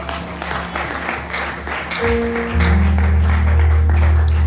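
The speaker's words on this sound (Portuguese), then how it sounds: "Palavra do Senhor, vamos aplaudir." Applause from a church congregation after a sermon, clapping building under low sustained music tones that swell louder in the second half.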